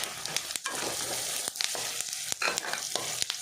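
Coriander seeds fry in a pan for Kundapura chicken sukka, a dense crackling sizzle broken by quick ticks and stirring scrapes, close and moderately loud.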